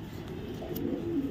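Pied racer pigeons, including a white-feathered hen, coo softly and steadily in a continuous low murmur of several birds at a pigeon farm.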